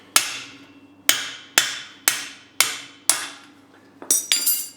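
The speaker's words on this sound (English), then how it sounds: "So just get a socket on there and drive out the bearing housing." Hammer blows on a socket driving a bearing housing out of a Honda CX500 part, six sharp metallic strikes at roughly one-second intervals followed by a quick cluster of rapid hits, close and ringing.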